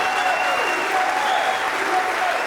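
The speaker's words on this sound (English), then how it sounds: "Ladies and gentlemen, a big round of applause for the American team." A dense, steady burst of applause fills a darts arena in Barnsley for the American team at the Weber Cup 2015, loud and continuous with a crowd clapping together.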